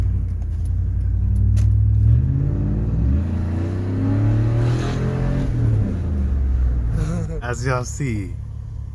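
A 1999–2006 Chevy Suburban or Tahoe V8 idling after a catalytic converter replacement, a close, steady low engine rumble with no rattle, under someone talking throughout.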